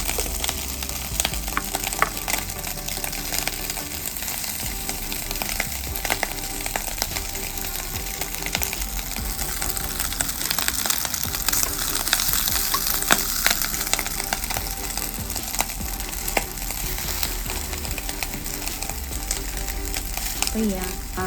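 Shrimp frying in a pot, heard as a dense, continuous crackling sizzle that holds close and loud throughout, with scattered pops and faint bits of background voice.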